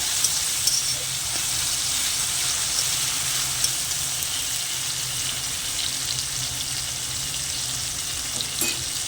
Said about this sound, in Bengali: তেলের মধ্যে দিয়ে দেবো অল্প করে পোস্ত মশলাটাকে খুব ভালো করে কষে নেব